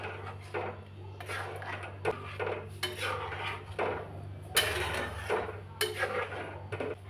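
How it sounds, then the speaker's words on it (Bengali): Date-palm jaggery being stirred into thickened milk in a pot for dudh pitha, with repeated scraping and clinking of a spoon against the metal pot over a steady low hum. "এরপর এর মধ্যে দিব খেজুরের গুড়। ভালো করে একটু নেড়ে নেব।"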